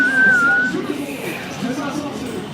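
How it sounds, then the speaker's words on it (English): A person whistles a short, thin rising-and-falling note near the start, amid a busy outdoor crowd hubbub in Istanbul with background chatter. "What's up with North Americans and whistling?"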